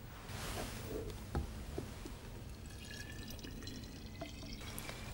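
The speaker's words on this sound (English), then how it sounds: "Add 500 ml of deionized water." Deionized water poured into a microwave-safe bottle holding agar, a steady soft liquid trickle and splash running continuously at moderate level for about five seconds, with no talking.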